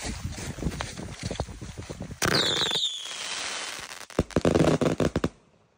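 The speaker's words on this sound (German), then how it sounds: "Viele vielleicht kennen die Terremoto 1 Sekunde, ist eine Salutbatterie, die 50 Schuss auf Schlag rausrotzt." A Terremoto salute battery fires rapidly with loud cracking blasts and whistling shots, then a quieter gap, then a further cluster of sharp reports before it falls silent.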